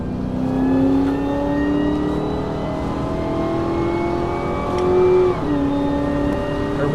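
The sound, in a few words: supercharger whine of a revving 2011 Cadillac CTS-V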